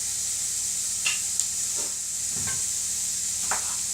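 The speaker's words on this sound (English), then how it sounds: "I've got my shallots and my garlic in here cooking away." Shallots and garlic cook gently in a frying pan, giving a steady hissing sizzle with a few faint scrapes and taps of stirring, quiet and uninterrupted.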